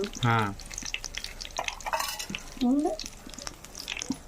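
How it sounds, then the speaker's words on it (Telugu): Brinjal (eggplant) fries and gets stirred with salt in a pan, soft sizzling and scraping spoon strokes heard close, under intermittent talking voices. "సాల్ట్ వేసుకొని వంకాయని తిప్పుకోవాలి"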